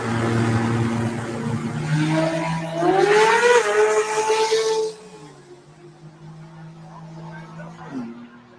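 A drag race car making a quick pass, its engine note climbing in pitch and then fading away, with commentators talking over it throughout.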